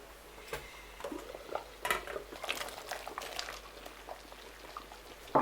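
A pot of Cameroon tomato stew bubbles quietly at a steady simmer, with soft popping and gurgling and an occasional faint clink.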